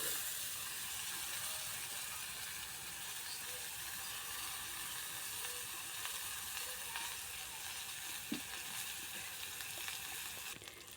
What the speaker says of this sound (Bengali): বেগুনগুলো ভালো করে পোড়া পোড়া করে ভেজে নেব।